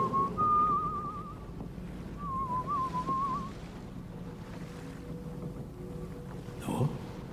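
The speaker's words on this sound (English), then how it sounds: "Instead, I'm whistling. That's all. Whistling." A man whistles a wavering, tuneful line in two phrases near the start, fairly clear against a low wind and water background aboard a boat, then falls quiet as ambient noise continues.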